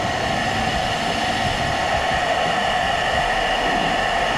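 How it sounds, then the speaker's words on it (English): A Philips SENSE IQ smart hair dryer runs steadily on its gentle setting, giving a loud, continuous broadband whoosh with a faint motor whine, close to the microphone and alone with no talk. "this hairdryer is on option gentle and it literally blows me away"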